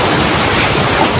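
Strong wind from Cyclone Dana makes a loud, steady roar with a rushing, gusting texture that fills the brief moment. No voices are heard.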